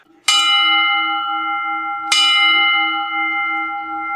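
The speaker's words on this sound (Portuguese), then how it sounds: "Para os sinos de vaca são mais sons que serão dados pela forma do sino" A cow bell is struck twice, a couple of seconds apart. Each clear, loud ring sustains and hangs in the air.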